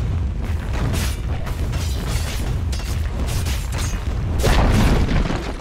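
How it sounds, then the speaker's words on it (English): Booming impacts and explosions as a tower is attacked in Dota 2, repeated heavy hits over dense, loud battle noise, swelling toward the end. "Dire's middle tower is under attack."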